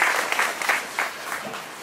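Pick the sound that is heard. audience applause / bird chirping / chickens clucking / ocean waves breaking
audience applause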